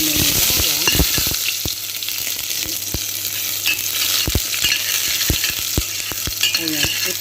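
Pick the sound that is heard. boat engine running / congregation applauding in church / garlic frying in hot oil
garlic frying in hot oil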